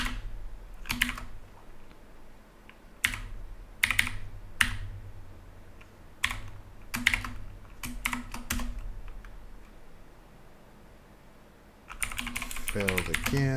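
Password being typed on a computer keyboard: bursts of sharp key clicks come in irregular clusters, close and moderately loud, ending in a faster run of keystrokes.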